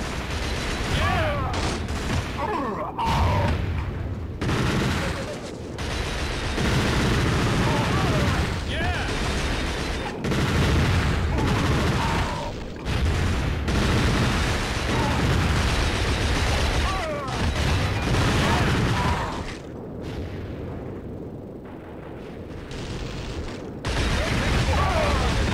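A mounted machine gun firing with explosions in Killzone Liberation on the Sony PSP: dense bursts of rapid gunfire and booms rolling on for long stretches, with brief pauses between volleys.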